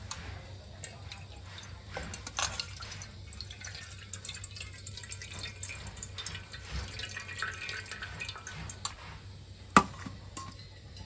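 Food is rinsed in a few changes of water in a home kitchen, with soft splashing, dripping and light clinking of a container continuing at close range throughout, plus one sharper knock near the end.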